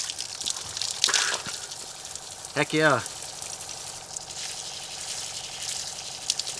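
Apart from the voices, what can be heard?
cold creek water running from off-grid shower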